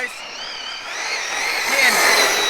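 An Arrma Kraton EXB RC car launching across a park, its electric motor whine rising in pitch as it accelerates, nearby and fairly loud, with someone talking over it.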